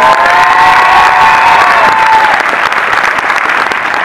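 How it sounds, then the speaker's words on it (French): An audience at a film presentation greets an actor with loud, dense applause mixed with cheers, sustained and then easing slightly toward the end. "vous pouvez l'applaudir, Hubert Koundé"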